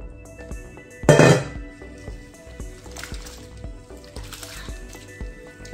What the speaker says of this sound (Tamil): ரெண்டு மூணு தரம் கழுவணும்.